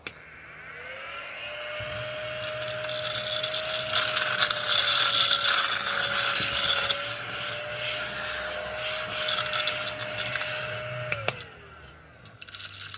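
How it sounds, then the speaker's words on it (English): A vacuum cleaner sucks up paper craft confetti of mixed sizes: its motor switches on with a steady, loud whine, and scattered paper rattles and ticks through the hose for about ten seconds before the motor winds down. "Let's turn on our vacuum and see what happens."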